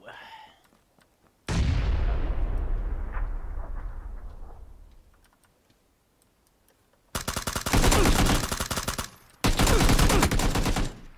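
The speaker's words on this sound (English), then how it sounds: "He threw grenades." Grenades going off in PUBG: one loud, close blast with a long rumbling decay, then after a pause two more sharp, dense bursts of explosive noise in quick succession.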